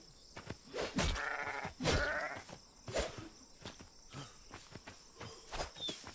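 Two short sheep bleats in the video game Atlas rise over a backdrop of chirping insects and scattered thuds, fairly close.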